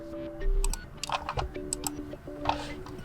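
Computer keyboard keys are pressed in a quick, uneven series of light clicks and taps. The typing is close and fairly quiet over a faint steady hum, with no speech.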